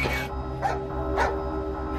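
A police dog out with its handler near a farm and church at night gives a few short barks, spaced roughly half a second apart, over a steady low engine-like hum, likely from a helicopter.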